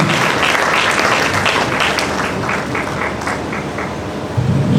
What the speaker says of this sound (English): Please a round of applause for our registrar, please.